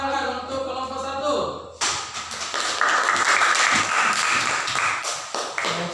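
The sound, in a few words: class applause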